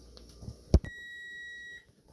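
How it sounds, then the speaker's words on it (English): After a soft clatter and a sharp knock, a kitchen timer gives a single electronic beep that holds steadily for about a second before cutting off. "the buzzer has gone off"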